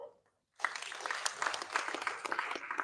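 Conference audience bursting into applause after a short pause, a dense, fairly even patter of many hands clapping that holds steady at moderate loudness to the end.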